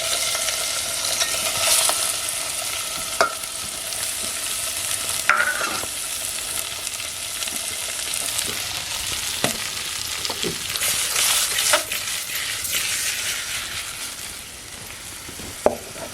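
Surmai fish fries in hot oil with browned garlic over a wood-fired chulha, giving a steady crackling sizzle broken by occasional sharp scrapes and clinks of stirring, with the sizzle easing slightly near the end.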